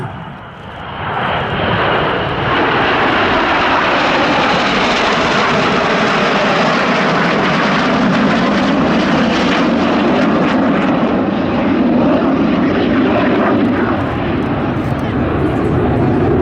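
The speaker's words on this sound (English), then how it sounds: "each aircraft performing a barrel roll before going into a hard 6G turn away from each other" Red Arrows RAF jets flying a formation display at an air festival, their engines a loud, sustained roar that swells in and then holds steady throughout, with a commentator talking over it.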